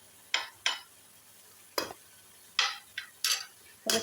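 A spoon stirs dry spices into frying keema. Several sharp scraping strokes come in an uneven rhythm over a quiet background sizzle.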